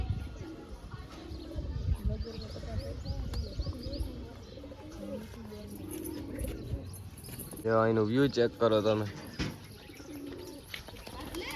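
A pigeon coos in a run of throaty calls on a rooftop terrace, close and fairly loud after someone talks over light bird chirps and outdoor background.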